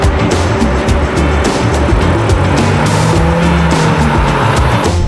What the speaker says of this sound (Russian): Так, мы начинаем стартовать плавно, как любит эта машинка.